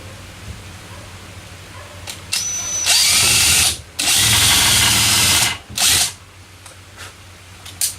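A power drill drives zinc screws into the wooden deck of a boat, with several loud whirring bursts of varying length, short pauses between them, and a quieter rev at the end.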